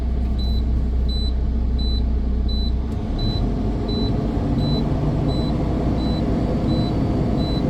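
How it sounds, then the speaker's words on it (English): A heavy truck engine held at 1200 RPM during an air pressure build-up check holds a steady idle-like drone, dropping slightly partway through, with a faint high electronic beep repeating evenly throughout. "Revving at 1200 RPM."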